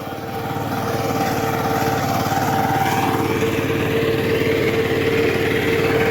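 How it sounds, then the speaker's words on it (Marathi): A tractor's engine runs steadily while ploughing a field, a continuous close chugging drone with an even pulsing beat and no talk over it. "आपा मामा ट्रॅक्टर घेऊन नांगरतोय"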